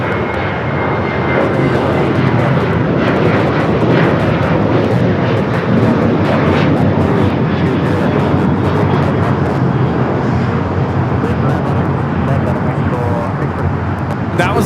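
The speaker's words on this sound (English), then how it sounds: "That was Alaska 1326 taking off to Los Cabos on the 737-900ER." Alaska Airlines Boeing 737-900ER taking off at LAX, bound for Los Cabos; a loud, sustained jet engine roar fills the whole stretch, with people talking over it.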